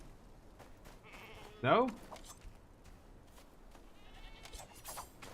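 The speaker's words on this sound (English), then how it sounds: "I just almost killed those innocent goats." Goat bleats in the game Game of Thrones: Kingsroad, one loud wavering cry lasting under half a second amid quiet game ambience, with someone talking around it.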